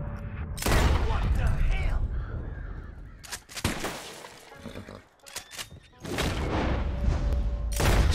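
Gunshots fired at a squirrel in Red Dead Redemption 2: loud sharp blasts in two clusters, separated by quieter stretches with scattered sharp cracks, with a voice talking faintly at times.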